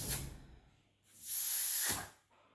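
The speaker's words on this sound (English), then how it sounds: "I'll be taking this balloon first. Let's see what happens when I blow it." A child blows hard into a balloon stretched over the rim of a plastic bottle, producing two breathy rushes of air, the second long and loud, with no talking.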